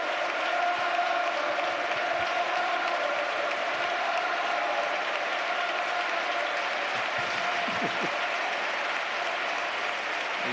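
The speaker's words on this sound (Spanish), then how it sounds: "Esa imagen, la ovación del estadio a Dani Ceballos" Sustained stadium ovation as a footballer wearing number 46 leaves the pitch during a tribute match between Real Betis and a legends selection; dense, steady applause and crowd roar fill the whole stretch with no break.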